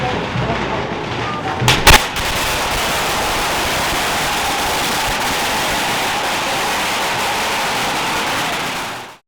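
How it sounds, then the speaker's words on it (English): Firecrackers thrown into the street during Lewes Bonfire Night, with a couple of sharp loud bangs early on over a dense, roaring crowd din that stays loud throughout before cutting off. "the firecrackers are terrifying. They're just throwing them all in the street"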